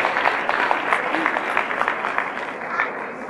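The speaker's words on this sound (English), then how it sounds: "let's give them all a bigger round of applause" An audience at a York Regional Police community event applauds community groups with a steady wash of clapping, moderately loud, with some crowd murmur and faint voices underneath.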